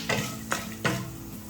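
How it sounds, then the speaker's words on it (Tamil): Brinjal masala frying in a pan, stirred three times: each sweep of the spatula makes a short scraping sizzle over a steady low frying hiss, close and fairly loud. "நல்லா கலர்லாம் மாறி சூப்பராக வறுப்பட்டுருக்கு"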